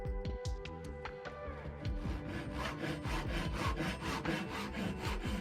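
A hand saw cuts through wood while building a wooden stand for an electric unicycle, its rapid back-and-forth strokes rasping steadily and close up, alone with no talking.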